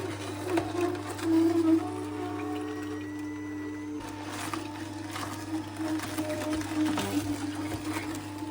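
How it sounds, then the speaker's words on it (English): Ninja NeverClog cold press juicer crushing beetroot slices, giving a steady low mechanical hum and whir with occasional grinding bursts near the start and middle, close and fairly quiet. "The noise from the juicer was a bit worrisome"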